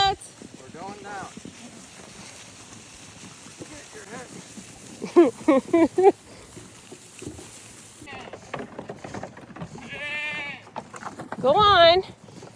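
Goats on a farm give several short bleats in quick bursts partway through, close by. People talk and call to the animals around the bleats.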